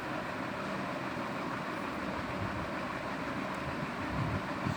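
Train running along rails as a sound effect, a steady broadband rumble with faint clattering throughout, moderately loud and continuous, with no voices.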